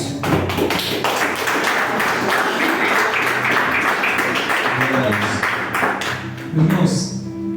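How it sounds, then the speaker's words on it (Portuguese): A church congregation applauds in a dense, sustained wash of clapping that fills the room for several seconds, with voices mixed in and a louder burst near the end. "Aplauda o nome de Jesus."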